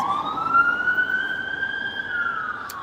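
From a balcony, an emergency vehicle siren holds a long, slowly arching wail, steady and fairly loud over low traffic rumble, with nobody speaking.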